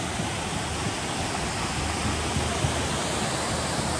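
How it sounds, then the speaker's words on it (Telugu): Kuntala waterfall roars with rushing water, a steady, full broadband wash heard close and loud throughout, with no voices. "the most beautiful place Kuntala water falls"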